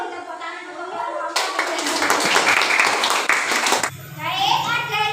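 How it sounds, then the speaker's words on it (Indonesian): Applause for a student group in a classroom lesson, a dense burst of clapping hands lasting a few seconds, with children's voices faintly before and after. "Silakan juga beri tepuk tangan untuk kelompok."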